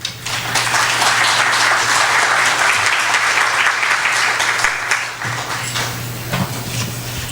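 Strong audience applause greets a speaker at an education forum, a loud, continuous burst of many hands that fades slightly toward the end, with a low steady hum underneath.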